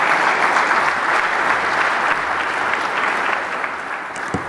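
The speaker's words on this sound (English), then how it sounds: "A big round of applause to Mr. Bhatt" An audience at a tech summit applauds, a full, dense burst of clapping from many hands that holds steady and then eases slightly toward the end.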